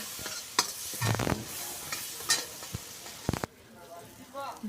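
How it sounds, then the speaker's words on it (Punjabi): Ginger garlic paste, a spoonful, frying in a pan for desi butter chicken, giving a steady close sizzle with several sharp stirring scrapes and clinks, then dropping to a quieter hiss near the end. "ਫਿਰ ਪਾਵਾਂਗੇ ਇਹਦੇ ਵਿੱਚ ਆਦੇ ਤੇ ਲਸਣ ਦਾ ਪੇਸਟ 1 ਚਮਚਾ ਤੇ ਇਹਨੂੰ ਭੁੰਨੂਗੇ ਜੀ ਆਪਾਂ 1-2 ਮਿੰਟ"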